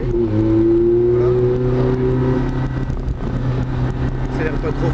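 A Ferrari engine accelerating on a city drive, a loud steady rising drone that then settles into a lower rumble, heard from inside the car.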